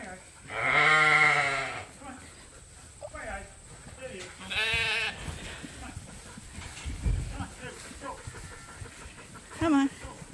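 Sheep bleating in a farm corral during a lamb deworming, tattooing and scrapie testing session, with a loud drawn-out bleat near the start and shorter calls later, mixed with people talking and hoof shuffling.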